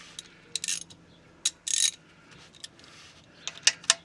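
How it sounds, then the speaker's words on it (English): A 14mm socket ratchet loosens the oil pan drain plug on a 2007-2011 Toyota Camry Hybrid, close and crisp in short separate bursts of rapid clicking with quiet pauses between. "we're going to loosen the oil pan drain plug"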